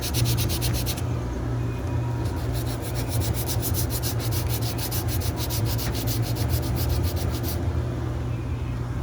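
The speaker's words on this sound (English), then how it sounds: "So watching me sand's pretty boring, so I'll film a little bit of it, but not much." Body filler on a car quarter panel is hand sanded with 180 grit paper, producing continuous close scraping strokes in a steady back-and-forth rhythm, with a low hum beneath and no talking.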